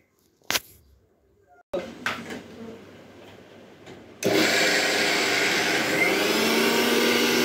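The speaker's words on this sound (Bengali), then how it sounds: "ডাল তো মানে বাটার কথা মনে ছিল না, এই কারণে তাড়াতাড়ি করে এখন ব্লেন্ড করে নিচ্ছে" An electric blender grinds soaked lentils (dal) into a paste in a home kitchen, a loud steady motor roar that starts suddenly partway through and runs unbroken to the end, after a stretch of quieter kitchen noise and clatter.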